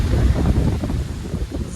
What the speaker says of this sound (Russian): Такие вот у нас ветра